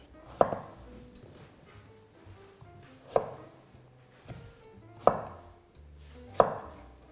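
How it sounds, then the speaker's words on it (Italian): A knife chops potatoes into fairly coarse cubes on a board, with about five crisp, separate strikes spaced unevenly and close by, with no voices. "quindi vado a tagliare le patate"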